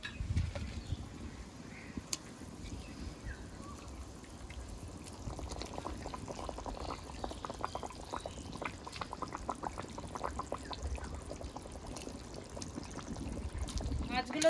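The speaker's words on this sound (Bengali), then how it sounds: "এবার ভেজে রাখা মাছগুলো দিয়ে দেবো।" Fried katla fish pieces dropped into a simmering curry, giving soft splashes and pouring, bubbling sounds at close range. A person talks over it.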